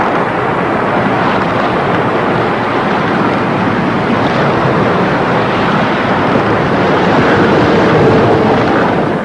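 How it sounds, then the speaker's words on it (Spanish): Ocean waves pound a drifting raft on the open Atlantic in the rain, a loud, continuous roaring wash with wind buffeting throughout and no voices. "La balsa temblaba con cada golpe de mar"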